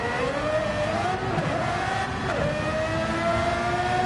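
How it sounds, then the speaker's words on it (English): A race car engine in a Red Bull Ring race screams at high revs, its pitch climbing and dipping briefly as it shifts, loud and steady throughout with no voices. "And these cars rev up really quickly, as you can hear."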